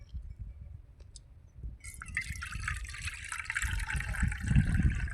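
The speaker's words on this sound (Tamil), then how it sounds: "தண்ணி ஊற்று, அப்படியே கொட்டிவிடு." Quiet dribbling at first, then a gush of water poured out over ice splashes steadily while making nannari sherbet, growing louder toward the end.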